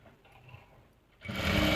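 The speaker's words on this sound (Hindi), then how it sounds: "तो यहाँ पे ये मैंने टॉप सिलाई लगा ली है।" A sewing machine whirs into steady, loud stitching on a dhoti salwar after a quiet moment, its motor hum running close and continuous to the end.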